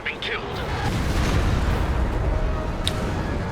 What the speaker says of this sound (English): a perfect mortar strike takes out 3 anti-tank guns